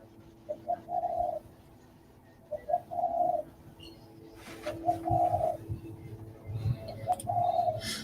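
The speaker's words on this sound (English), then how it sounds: "Pigeon, I reckon." A pigeon coos in several separate soft phrases, spaced a second or two apart, over a faint low hum and some background rustling.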